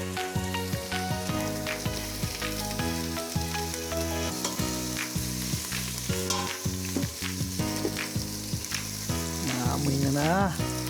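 Pork rendering and frying in its own fat in a pan for Filipino tomato-stewed pork over low heat, giving a continuous crackling sizzle with occasional pops under steady background music.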